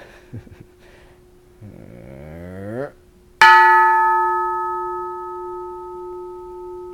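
Bell struck once with a sharp metallic hit, then a clear sustained ring that decays slowly for several seconds, preceded by a sliding vocal-like hum and a few soft thumps.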